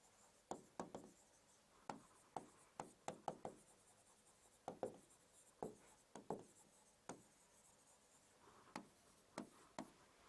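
Pen or pencil writing on paper during an exam-analysis session, a quiet run of short scratchy strokes and taps in irregular bursts, close and fairly soft, with no talking.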